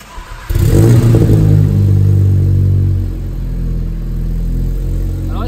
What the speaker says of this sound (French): Donc là c'est une ligne d'échappement Miltech posée par vos soins.